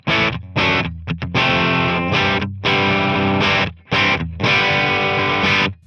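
Electric guitar through a Mocadlo 100-watt dual-voice tube amp head at natural breakup, loud sustained overdriven chords in rhythmic bursts with brief gaps, no talk.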